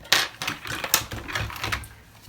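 Keys clatter on a Japanese Telecomet terminal keyboard, a quick, irregular run of close, crisp clicks and taps with no voices.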